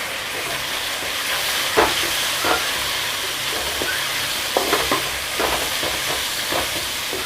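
Chopped tomatoes and onions sauté in a pan for an egg curry, giving a steady sizzle broken by scattered scrapes and stirring clatters of a spoon against the pan.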